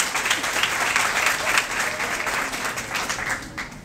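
A crowd claps loudly and continuously at a Modern Revolutionary Party (PRM) women's political gathering in Puerto Plata, making a thick, sustained wash of applause that runs the whole time with no break.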